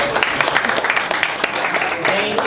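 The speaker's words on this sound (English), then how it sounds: "So let's all give a round of applause to Susan Askew, our moderator." Brief scattered clapping from a small audience at a talk, with distinct individual claps over a light murmur of voices.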